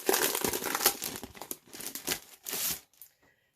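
Cellophane wrapping crinkles and crackles as it is pulled off a collection, in close, irregular bursts of rustling that fade out near the end.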